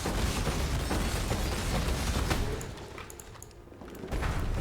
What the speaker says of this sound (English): This is going to be one big explosion once the boss finally decides to bite the bullet.